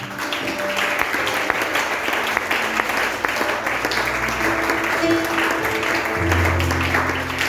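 Worshippers at a church service clap for Jesus in continuous, fairly loud applause that carries through the whole passage, with a low sustained keyboard tone rising near the end.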